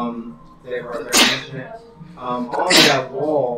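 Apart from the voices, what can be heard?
sneeze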